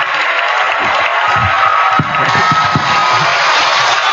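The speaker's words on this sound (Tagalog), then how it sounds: "Palakpak mo, palakpak mo." A crowd at a live Catholic versus Pentecostal church debate breaks into a steady wash of applause and cheering, dense and sustained, with scattered low thumps beneath.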